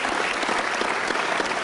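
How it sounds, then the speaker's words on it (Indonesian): A crowd claps for Pak Jokowi, a thick, even burst of applause that stays loud and constant for under two seconds with no break. "Boleh tepuk tangan buat Pak Jokowi."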